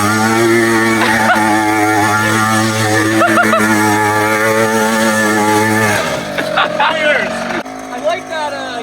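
A mini quad engine screams at full throttle, held steady and loud for several seconds before the revs drop and stutter near the end, with voices briefly audible over the engine.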